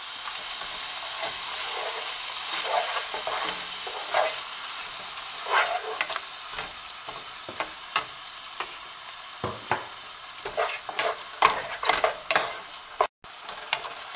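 Masala for chicken biryani sizzles steadily in a hot pan while a spoon stirs it, with repeated scraping taps over a constant frying hiss, close up and with no talk.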